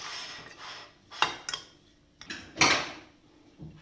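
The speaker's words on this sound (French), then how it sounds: "Et je vais mélanger le tout." Seasoned fish with ras el hanout and pepper being stirred in a baking dish, close scraping and clinking of a utensil against the dish in short uneven strokes, fairly quiet, no talking.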